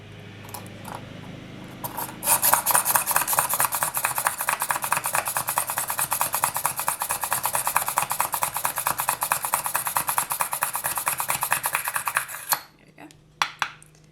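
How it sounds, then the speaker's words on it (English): A hand push drill bores a hole for an earring, rapid, steady mechanical clicking and scraping close by for about ten seconds, ending abruptly and followed by a few separate knocks. "And I'm using a push drill."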